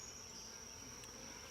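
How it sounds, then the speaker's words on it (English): Honeybees flying at the entrance of a hive fitted with a double screen board, a faint steady buzzing hum with a high whine running continuously throughout. "I already see bees flying into the opening on there."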